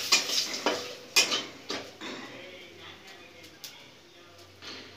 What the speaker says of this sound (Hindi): अच्छे से चला लूँगी।